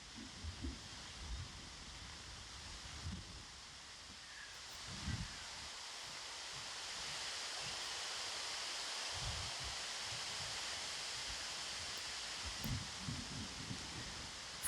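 Gusty wind buffets the microphone in an open outdoor park of miniature landscape installations, a soft continuous rush with low thumps swelling now and then, quiet and steady throughout.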